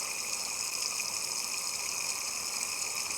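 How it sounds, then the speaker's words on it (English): Water from a hose pours into a boat's tank through its filler pipe, a steady close gushing rush with a constant hollow resonant tone and no pauses. "As soon as it begins to rise, I'm going to pull the hose out, because that means that the water is climbing up the filler pipe."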